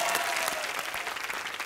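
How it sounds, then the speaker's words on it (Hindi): A studio audience on a televised comedy show claps loudly for a music composer, a brief dense burst of applause. "अनु जी के लिए जोरदार तालियां"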